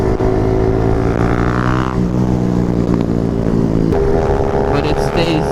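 A Honda Ruckus scooter engine drones loud and close at a stuck full throttle, its steady high-revving buzz holding with slight pitch shifts throughout.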